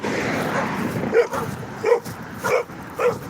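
A small dog gives four short, sharp barks spaced about half a second to a second apart, close by over a noisy background.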